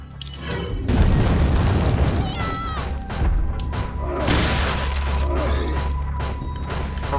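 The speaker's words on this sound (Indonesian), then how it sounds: "Meledak." An explosion in the Resident Evil 4 video game erupts with a heavy boom and crashing debris. It is followed by rumbling, clattering game effects and tonal sounds that stay loud through the rest of the stretch.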